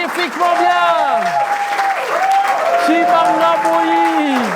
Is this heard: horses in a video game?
no